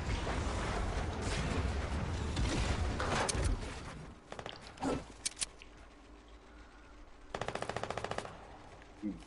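Video game gunfire rattles in dense automatic bursts for the first four seconds. Scattered single shots follow, then a short rapid volley near the end. The firing is loud at first and thinner afterward, with no talking.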